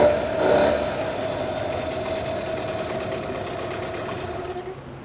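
A repaired Yamaha outboard motor, cleaned after seizing with sand in the cylinder, runs steadily at a close, even idle-like drone, with a slightly louder start before settling and cutting off at the end.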